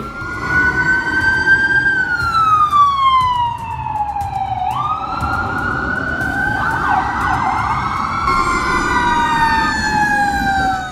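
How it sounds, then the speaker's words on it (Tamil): Wailing sirens of a line of fire engines in Chennai, India, sweep up and down continuously, several overlapping, loud and close over the rumble of heavy traffic. "ஒன்றின் பின் ஒன்றாக வரிசை கட்டி சென்ற தீயணைப்பு வாகனங்கள்"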